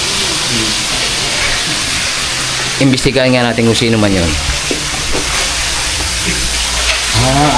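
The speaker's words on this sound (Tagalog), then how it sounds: "Parang may nagpiprito mga ka-business." Steady loud sizzling of food frying in oil fills the whole stretch, with a person talking briefly over it.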